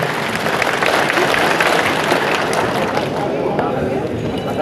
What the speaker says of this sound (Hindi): मौर्य जी का जोरदार तालियों से हम सभी स्वागत करें।